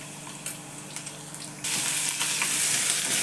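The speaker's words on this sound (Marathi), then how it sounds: "मोहरी घातली बघा, जिरं घातलं, कुटलेलं आलं लसूण घातलं." Mustard seeds, cumin, crushed ginger and garlic hit hot oil and burst into a loud, steady sizzle that jumps sharply louder partway through and stays bright and hissing, no voices.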